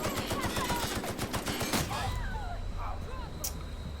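Rapid, loud gunfire in the video game The Outer Worlds rattles for about two seconds, then stops, leaving quieter game sounds with a voice.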